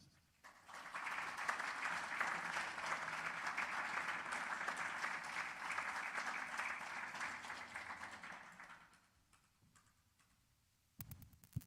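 Audience applause at a book talk rises quickly into a sustained, even wash of clapping for about eight seconds, then fades out, followed by a brief rustle near the microphone.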